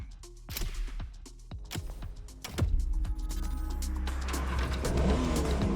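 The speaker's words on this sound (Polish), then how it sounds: "Odpaliliśmy furę. Ruszamy." A Porsche in The Crew Motorfest fires up with sharp clicks and a starter catch, then settles into a loud, steady engine drone as it pulls away, close and continuous to the end.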